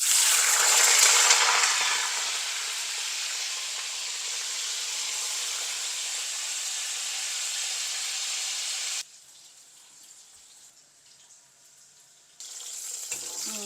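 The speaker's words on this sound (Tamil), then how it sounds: "கத்திரிக்காய் பொரியுது" Eggplant pieces frying in hot oil sizzle loudly and steadily, the hiss easing after a couple of seconds, dropping away for a few seconds near the end, then returning.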